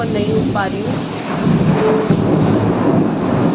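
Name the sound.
thunder during rainstorm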